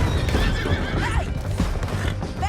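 Horses whinny repeatedly over a rapid, continuous clatter of galloping hooves in Red Dead Redemption 2, loud and close, with no talking.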